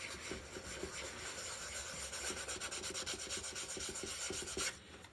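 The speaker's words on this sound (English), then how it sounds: "So I'm gonna use the level 2 pad and I'm gonna begin to sand." Hand sanding of patent leather with a level 2 sanding pad during a paint repair, a steady close scratchy rubbing that runs continuously in quick back-and-forth strokes, with no talk.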